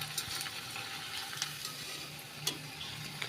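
Banana tikki, made from raw banana, shallow-fries in oil in a pan over a low flame, giving a steady, soft sizzle throughout with a few brief crackling spikes and no voices.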